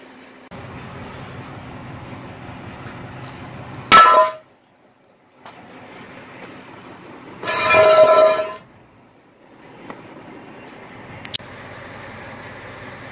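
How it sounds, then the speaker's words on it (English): A hammer strikes a frozen truck wheel chock beside I-90 westbound, giving two loud metallic clanging bursts separated by quieter stretches of roadway hum. "Sometimes you need to call out the hammer."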